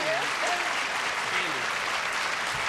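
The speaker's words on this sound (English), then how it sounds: "let's have another nice round of applause for Cindy." Studio audience applauding on a 1980 Tic Tac Dough game show, a dense steady wash of clapping that holds at an even level for the whole stretch, with faint voices underneath.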